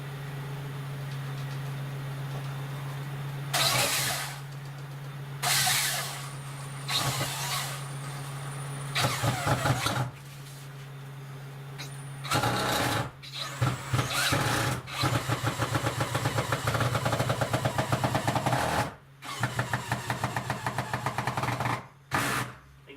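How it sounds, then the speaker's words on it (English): A power drill whirs in a series of short bursts with pauses between, driving screws close by while building a shelf, over a low steady hum. "I'm going to screw this in"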